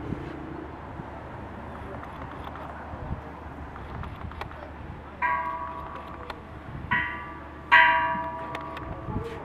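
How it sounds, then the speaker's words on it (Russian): Church bells ring in a French-style garden, three clear strikes with ringing decay in the second half, heard over steady outdoor ambience and low background noise. "Здесь, кстати, колоколы все бьют."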